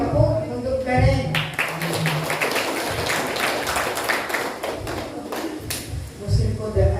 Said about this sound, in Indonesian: Ya Kak, kita kasih tepuk untuk Gareng.